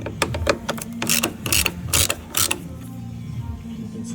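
Torx T30 screws being backed out of a Ford Mondeo headlamp: a run of ratcheting, creaking mechanical clicks, close and fairly loud, with a brief spoken phrase.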